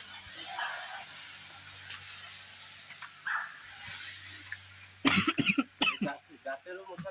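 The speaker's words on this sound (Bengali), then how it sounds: "চরণ্ড কাশি হচ্ছে" A person coughing hard, several rapid loud coughs in a burst near the end after a quieter stretch of hiss and faint background sounds.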